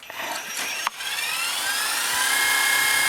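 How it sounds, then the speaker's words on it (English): Electric shearing clippers whir steadily up close, their buzzing motor holding a constant high-pitched drone after a brief click. "pick up the clipper and make the sound"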